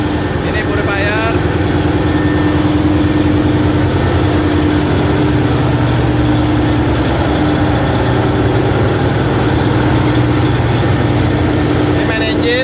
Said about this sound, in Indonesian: Ini main engine, tipe main engine gua 2 tak dari Hitachi MBNW.